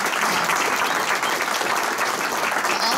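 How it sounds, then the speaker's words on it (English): A roomful of people applauds steadily at a Hickory Rotary Club lunch meeting, a dense, even clatter of many hands sustained at full strength throughout with no voices rising above it. "So give these guys a big round of applause."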